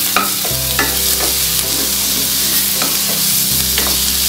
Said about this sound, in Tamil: வெங்காயத்தை போட்டுறேன்.